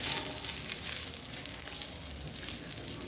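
Coriander seeds roasting in oil in a pan over slow-medium heat, a dense continuous crackling sizzle that holds steady throughout, close and fairly loud, with no voices.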